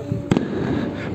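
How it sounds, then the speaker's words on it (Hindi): Firecrackers go off on a rooftop on the night of the Ramadan moon sighting. A single sharp crackling burst stands out over a steady background hum of wind and distant noise. "फोड़े जा रहे हैं, पटाखे भी।"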